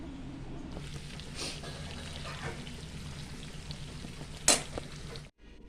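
Onions fry in a pan with a steady, soft sizzle that fills the scene, broken by a brief louder clatter near the end before the sound cuts off.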